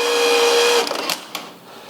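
A machine's servo motor turns a big chuck slowly at 90 RPM, producing a steady, loud, tonal whine that stops just under a second in, followed by a few mechanical clicks and knocks over low hum.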